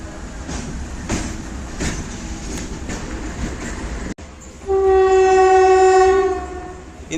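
An express train, number 12509 from Guwahati to SMVT Bengaluru, rumbles past with rhythmic clacking of wheels on rails, then a loud, sustained horn blares for about two seconds nearby.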